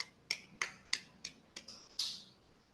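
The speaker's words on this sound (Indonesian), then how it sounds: "Tepuk tangan dulu." Children clap their hands in a quick patterned beat during a lesson: six sharp, crisp claps spaced unevenly, the last one longer and more ringing, all fairly faint with no voices over them.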